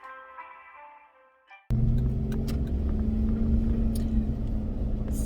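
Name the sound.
car driving on the way to work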